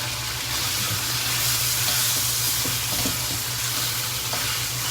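Meat fries in a hot pan over strong heat, giving a loud, steady sizzle with occasional stirring scrapes throughout.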